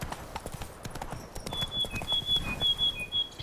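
Geralt's horse Roach gallops in The Witcher 3: Wild Hunt, a quick rhythmic run of hoof clops at moderate distance, with faint game sounds behind.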